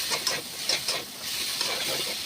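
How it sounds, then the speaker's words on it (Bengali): Fish curry masala sizzles in a pan while being stirred, soft scraping strokes over a constant close frying hiss. "এই যে আবার ফের একটু নেড়ে দিলাম।"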